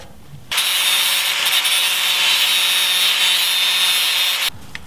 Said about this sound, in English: you want to take a grinder and just smooth those welds out.